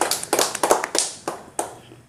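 Short, sharp claps of hands ring out in a quick irregular handful, close and crisp, from a small group applauding during a casual chat.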